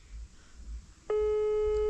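A telephone busy tone starts suddenly after a stretch of quiet room noise and holds steady and loud to the end, with no voices.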